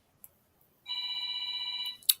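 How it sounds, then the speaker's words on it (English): A home telephone rings with a steady electronic trill lasting about a second, fairly clear and alone in a quiet room, with a faint click at the end. "Phone's ringing."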